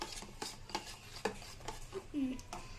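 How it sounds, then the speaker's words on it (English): Three eggs being mixed in a bowl for a bread omelet, with soft scraping and tapping strokes against the bowl at an irregular pace, close and moderately quiet, with no talking. "After putting the 3 eggs, then mix it."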